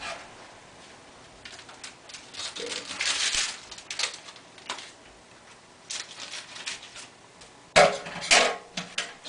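Turbo yeast sprinkled into a moonshine mash while stirring, giving irregular gritty rustles, ticks and scraping swishes that come and go in bursts, with sharper louder scrapes near the end.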